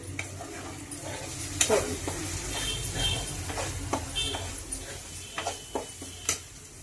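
Chili powder and turmeric fry in a pan for an egg and potato curry, with a continuous close sizzle and a series of utensil scrapes and taps. A few of the taps are sharper and come toward the end.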